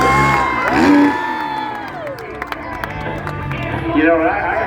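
A crowd at a freestyle motocross contest at the Red River Valley Fair cheers and whoops in a loud, continuous wash, with an announcer talking over it throughout and scattered claps cutting through.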